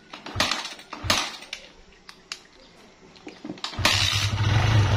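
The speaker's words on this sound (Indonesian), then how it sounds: "Coba nyalakan motornya, Dek." A Kawasaki KLX motorcycle that will not move in gear is started, a few clicks and short cranking bursts, then the engine catches and settles into a steady close idle.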